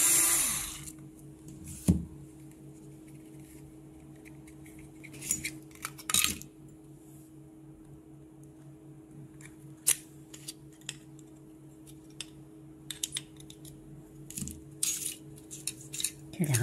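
Hard plastic clicks and clatters come from the two shell halves being pried off a dual-socket car charger with a digital display, a few sharp snaps spaced seconds apart over a quiet, close background.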